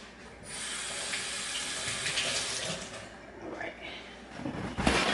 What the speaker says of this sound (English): Now I'm going to rinse this out so I can put my Obe in.